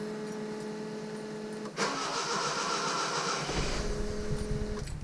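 A Datsun 620 pickup fitted with Megasquirt fuel and spark cranks on its first start, the starter whirring steadily, then the engine briefly catches with a louder, rough burst before faltering, heard close and alone.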